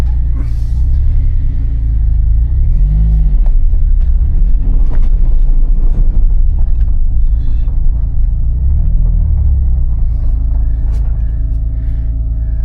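An old car's engine idles steadily outdoors after coming off ramps, a continuous low rumble that runs smoothly throughout, with faint knocks and rattles above it.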